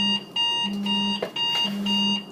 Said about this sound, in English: I have an alarm going off on my phone